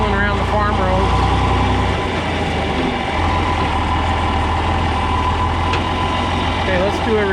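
A John Deere 4010 tractor engine runs in a travelling gear on farm roads. It gives a loud, steady, low diesel drone throughout, with a brief dip in pitch partway through and a faint voice underneath.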